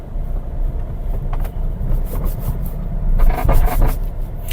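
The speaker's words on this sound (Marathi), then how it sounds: "स्पीड ब्रेकर्स आहेत पुढं. तर सस्पेन्शन देखील आपण टेस्ट करूयात." Hyundai i20 diesel hatchback rolling over speed breakers on a rough road, a steady low cabin rumble broken by a cluster of clattering suspension thumps near the end.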